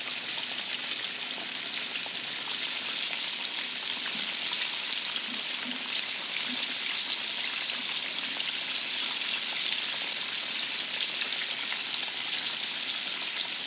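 Pieces of fresh flounder fry in hot oil, giving a steady, dense sizzle and crackle that runs without a break, with no voices.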